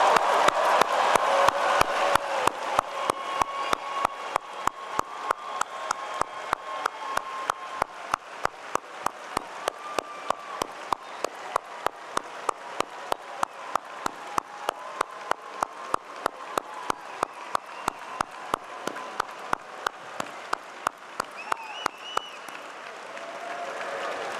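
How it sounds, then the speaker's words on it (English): Commencement crowd applauding doctoral graduates in a large venue: a long, steady wash of many hands clapping with scattered cheers, sustained at even strength before fading toward the end. "Please join me in congratulating our doctoral graduates with a round of applause."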